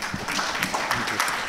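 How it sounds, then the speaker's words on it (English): A conference audience applauds at the close of the first day of a future-of-work summit: a brief burst of scattered, moderately loud clapping in a hall. "please let us give them the biggest round of applause"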